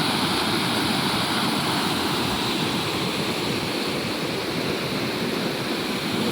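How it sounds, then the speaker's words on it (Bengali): Torrent of water flowing straight down from the hills near a bridge on the Jharkhand and Purulia–Bankura border, a loud, steady, close roar of rushing water with no pauses. "ডাইরেক্ট পাহাড় থেকে জলটা আসছে"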